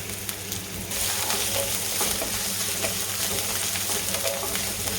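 Long-sliced onion frying in a pan for veg Manchurian makes a continuous close sizzle that swells louder after the first second and holds steady.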